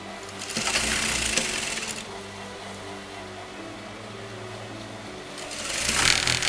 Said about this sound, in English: I'm going to place the lace on top of this and I'm going to sew that together